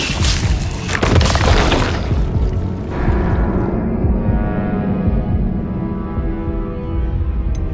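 A spell cast in the Hogwarts Legacy video game, a loud booming whoosh with crackling bursts in the first few seconds, then a fading low rumble that lingers alone.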